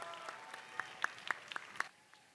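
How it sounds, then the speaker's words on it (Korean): Brief, thin applause from an audience at a culture night event, a handful of distinct claps in a loose rhythm that trails off after about two seconds, fairly faint and distant. "Please give a round of applause."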